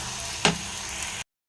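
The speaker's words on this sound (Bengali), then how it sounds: "আর এবারে ভেজে নেব ভালো করে" Potatoes coated in poppy seed paste frying in a pan, a steady close sizzle broken by one brief scraping stir, then cut off abruptly.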